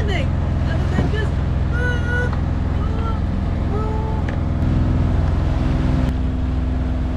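A sailboat's motor drones steadily as the boat rolls through small swells on the quarter near Tobermory, a continuous low rumble with faint voice-like tones over it.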